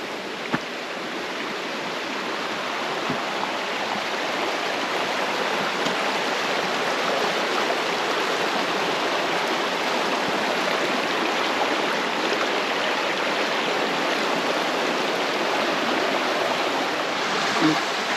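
A creek flowing over slippery rocks at a crossing on the Erskine Falls loop walking trail, a steady, close, full-bodied rush of water that holds an even level throughout with no pauses.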